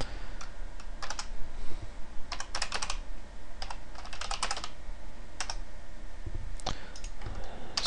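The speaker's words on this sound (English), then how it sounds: "Maybe if I could type." Rapid bursts of typing on a computer keyboard, clustered clicks arriving in short runs with pauses between, close and moderately loud, no talking.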